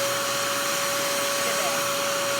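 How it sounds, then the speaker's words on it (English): A We R Memory Keepers wet/dry craft vacuum running in blower mode, putting out a loud, steady motor whine and rushing air with a constant pitched hum throughout, close up and unbroken. "So now we're going to see what it does in terms of blowing things."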